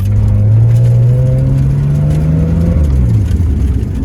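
A Nissan R31 Skyline with an RB30 engine and a locked differential drives steadily, its engine note a loud, continuous low drone that climbs gradually in pitch, then dips as the gear changes near the end.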